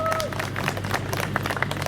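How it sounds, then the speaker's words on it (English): An outdoor crowd at a Scouting reunion in a park claps and applauds, a mix of sharp hand claps over steady background noise, fairly close, with a few voices mixed in. "Give Thailand a big clap."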